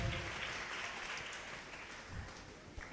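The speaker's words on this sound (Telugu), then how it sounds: "గట్టిగా చప్పట్లు కొట్టి గట్టిగా దేవుని మహిమ పరుద్దాం." A congregation at a Christian testimony gathering claps together in praise, a dense steady patter of many hands that fades slightly toward the end.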